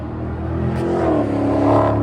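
A Dodge Hellcat engine revs steadily at close range, holding a deep, rumbling drone for about two seconds that swells slightly toward the end, with no voices.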